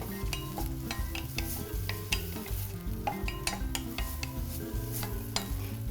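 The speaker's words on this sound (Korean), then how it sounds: "채썬 표고는 고기와 같이 볶아주세요." Beef and shredded shiitake mushrooms stir-fry in a pan with a soft sizzle, broken by frequent light scrapes and taps of a utensil against the pan, quiet and close, with a low steady hum underneath and no talking.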